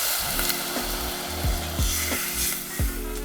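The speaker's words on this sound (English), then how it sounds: "I'm gonna go ahead and cook my beans with the pork." Red beans cooking with pork in a pot give off a steady, moderate sizzle and crackle, with a few short scraping strokes repeating about every half second or so.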